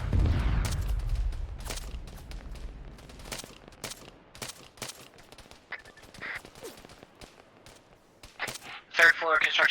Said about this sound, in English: they're shooting through the trees